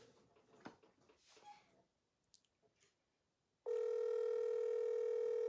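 Steady, loud telephone tone on a call-in broadcast, switching on abruptly after some quiet handling and mouth noises and then holding unbroken to the end.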